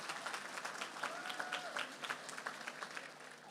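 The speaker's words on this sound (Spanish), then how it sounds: "Dale un fuerte aplauso a Jesús." A church congregation applauds steadily, the clapping sounding faint and distant with a speaking voice faintly above it.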